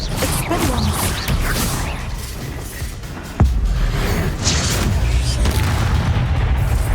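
In Hogwarts Legacy, a Bombarda blasting spell sets off a single sharp explosive boom partway through, over constant rumbling battle noise.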